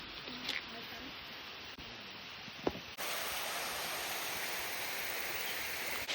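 Waterfall in Thailand, a broad steady rush of falling water close by, growing louder and fuller partway through, with brief faint voices early on.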